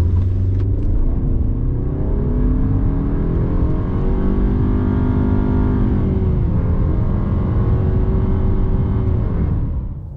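A 2020 Renault Koleos petrol SUV engine revs hard accelerating 0 to 100 km/h, climbing steadily through the gears, a loud close rumbling drone rising in pitch for about ten seconds, no voices.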